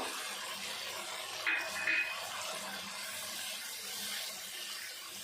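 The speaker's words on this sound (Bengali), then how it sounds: "বাটিটা ধুয়ে সামান্য একটু জল দিয়ে দেবো" Tap water pours steadily into a kitchen sink while a bowl is rinsed, a continuous close hiss with a couple of brief clinks near the middle and no one speaking.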